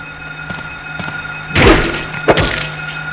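A metal pipe strikes a creature in the Silent Hill video game, with a couple of light knocks followed by a heavy, loud thunk and a second sharp hit, each blow a short dull impact.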